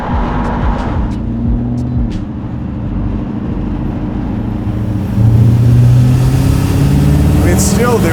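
A Ford Galaxie with a Coyote V8 pulls at quarter throttle from inside the cabin, a steady engine rumble rising in pitch and growing louder partway through.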